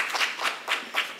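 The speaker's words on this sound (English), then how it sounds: "When somebody's coming up, you clap all the way to the mic, okay?" Audience at a poetry reading claps as a poet walks up to the microphone, a short run of sparse, rhythmic claps from a small crowd, close and moderately loud with no voices.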